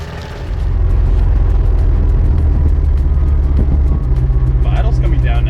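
A Ford Ranger driving with its engine laboring and lacking power, a loud steady rumble close inside the cab with faint popping backfires; speech is not evident.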